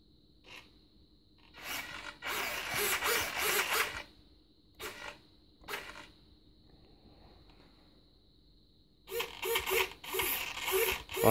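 Small servo driving the elevator on a completed Great Planes Siren model plane, its horn cut down short: bursts of whirring, gear-like mechanical buzz start and stop several times, close and moderately loud, with no talk.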